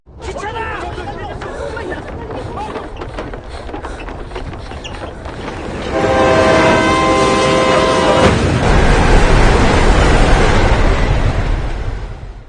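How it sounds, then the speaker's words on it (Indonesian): Over a rumbling, crowd-like background, a train horn blares for about two seconds, then the roar of the passing train swells loudly. "kereta pun datang melaju dengan cepat ke arah mereka"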